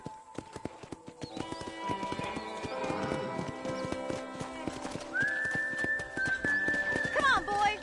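Horse hooves clip-clop steadily at a walk around a ranch corral in the video game Red Dead Redemption, with a neigh or whinny near the end, set against a music score and game ambience.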